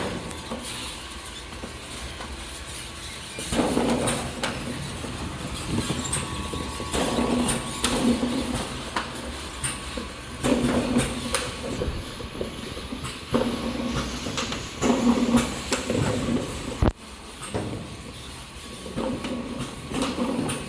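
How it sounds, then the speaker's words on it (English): A talc powder filling line with vacuum conveyor, horizontal screw and double filling head runs with a dense, continuous mechanical whir and hum, punctuated by repeated clunks and clicks of the mechanism at close range. "talc powder filling line from the vacuum conveyor, and then horizontal screw, and here double powder filling head"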